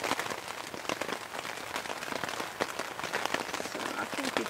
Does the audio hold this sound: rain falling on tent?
yes